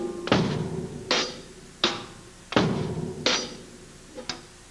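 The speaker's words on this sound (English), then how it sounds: "So for example, I might hit the snare drum first instead of the bass drum" Loosely coordinated drum kit hits, snare struck ahead of the bass drum, six sharp cracking thumps spaced unevenly about three quarters of a second apart, close and dry with a faint ringing tail and no talk.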